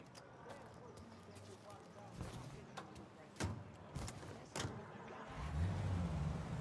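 A 1930s-era car in the Mafia Definitive Edition game rolls along with a low engine rumble, a few sharp clunks and a rising engine near the end, with voices speaking over it.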